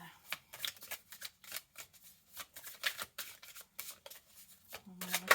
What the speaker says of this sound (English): Shuffle.